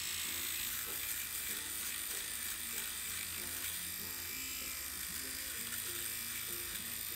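Small affordable pocket electric shaver running over facial hair, a faint steady buzz with shifting mechanical rattles as it moves across the skin, heard close and alone.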